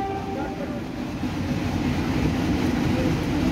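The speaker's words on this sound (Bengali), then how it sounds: "এই যে স্টার্ট করলো গাড়ি" A Kolkata Metro train on the trial run from Maidan station toward Howrah, running under the Ganga, starts to move, with a steady, loud rumble of rolling wheels and motors that builds slightly throughout.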